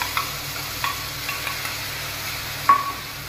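A paste of ginger, green chilli, cumin, coriander and yogurt sizzles in a hot pan with bay leaf, a steady close frying hiss broken by a few sharp stirring scrapes, and no talk.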